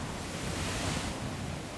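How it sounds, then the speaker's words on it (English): Waves crash onto a sandy beach shore in a continuous, close roar of surf, steady and dense with wind-like hiss throughout and no voices. "the waves crashing onto the shore"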